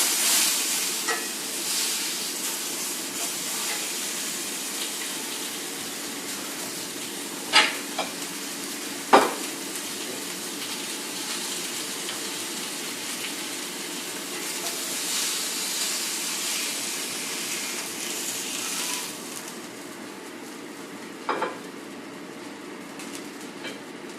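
A salmon fillet fries in a pan with a steady, crisp sizzle throughout, a few sharp clicks and taps of a utensil against the pan standing out above the hiss.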